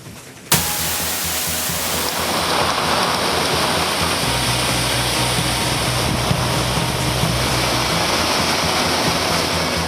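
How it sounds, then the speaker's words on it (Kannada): Chikhale Falls, a waterfall plunging through green forest during monsoon rain, starts suddenly as a loud, steady roar of rushing, crashing water and holds that level without letup. "ಹಾಲ್ನೊರೆಯಂತೆ ಧುಮುಕುವ ಜಲಪಾತ. ಇದು ಚಿಕ್ಕಲೆ ಫಾಲ್ಸ್ನ ಜಲ ವೈಭವ."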